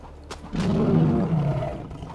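A lion in LEGO Worlds lets out a single loud, close roar that swells after a brief lead-in, holds steady and then tails off, with no talk over it.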